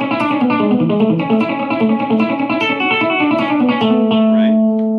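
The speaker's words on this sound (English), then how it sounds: "with the delay, you've got that crazy kind of slap back," Electric guitar notes picked in a quick rhythmic line, each echoed by a short slapback delay, played alone and fairly loud.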